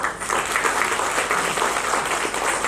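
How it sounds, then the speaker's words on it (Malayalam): An audience at an Onam cultural programme in Odakkuzal gives a practice round of applause, dense and even clapping that fills the hall steadily from start to finish without voices. "ഇപ്പൊ ഒരു പ്രാക്ടീസ് കയ്യടി ഏറ്റവും ബെസ്റ്റ് ആയിട്ട് എത്ര കിട്ടും?"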